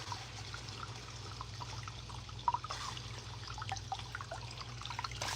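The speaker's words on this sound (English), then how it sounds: "All right, so I'm going to go ahead and rinse her hair." Cool water running through a person's natural hair to rinse out conditioner after braids are removed, a faint, steady trickle and drip under a low background hum, with no talking.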